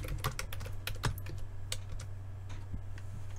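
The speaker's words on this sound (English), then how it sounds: "you can see how many times I type my password wrong" Quick bursts of keystrokes on a computer keyboard as a password is typed, clicking in short irregular runs over a steady low electrical hum, close and moderately loud.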